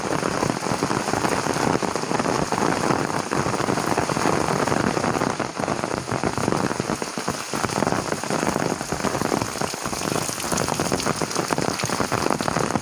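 Steady heavy rain pours down at a dam viewpoint on a rainy day, a dense, constant hiss of drops striking surfaces close by with no voices.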